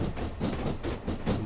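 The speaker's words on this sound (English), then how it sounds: "trying to get this train to go a little faster, and it is taking its time" A steam locomotive in the Train Simulator video game labours slowly uphill, a dense rumbling chug with a steady pulsing rhythm that swells and fades several times over a short stretch.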